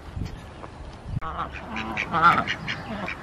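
Ducks quack in short, nasal calls against faint background noise, a few squawks clustered together, moderately close.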